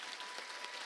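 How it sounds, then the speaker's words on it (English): Sustained audience applause at a school district Teacher of the Year celebration honoring a teacher, dense clapping from a crowd, steady and even throughout, with no voices standing out. "Let's give a big round of applause for Jennifer Thompson."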